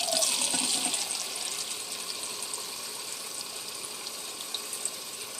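Water pours from a two-cup measuring cup into a pot already on the stove. It makes a steady close gush that settles into a continuous trickling splash with no voices.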